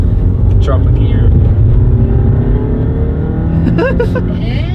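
A Subaru WRX STI accelerating hard and dropping a gear, its engine note climbing in a loud steady roar with a shift change near the end, while people talk and shout over it inside the car.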